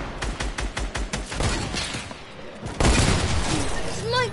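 Rapid gunfire in a video game shooter, a string of close, sharp shots in quick rhythm followed by a heavier burst, with players talking over it.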